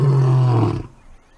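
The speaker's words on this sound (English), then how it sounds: "as soon as lions roar in this park, they all listen" Lions roar in a park, one deep, loud, close roar sustained for most of a second before cutting off into quiet outdoor ambience.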